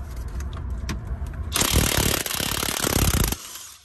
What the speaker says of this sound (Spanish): vamos a utilizar un soque 18 y el taladro de impacto para remover la tuerca